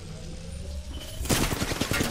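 Rapid bursts of automatic gunfire in Apex Legends erupt suddenly after a quiet stretch, loud and close, rattling in a dense volley to the end.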